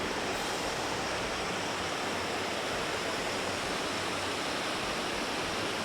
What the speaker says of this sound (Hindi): ये नमस्ते झरना का पानी ही नीचे आ रहा है।